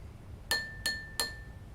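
A drinking glass partly filled with water is struck three times in a quick, even sequence, each tap ringing out in a clear, sustained vibrating tone that decays before the next strike.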